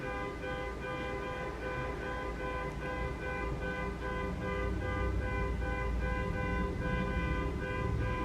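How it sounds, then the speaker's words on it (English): A car horn blares in a continuous, droning tone from outside, steady and unbroken for the whole stretch, with a faint background hum. "Somebody's car alarm was honking away out there."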